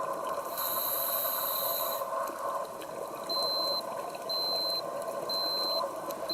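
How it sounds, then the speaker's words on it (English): An underwater dive computer alarm gives a string of short, evenly spaced high beeps during a safety stop. Regulator breathing and bubble noise surround the beeps, and a longer tone sounds earlier. "That's an alarm on my dive computer."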